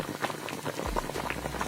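Tomatoes boiling in a pot, with steady close bubbling and popping of rolling water that is continuous and fairly quiet.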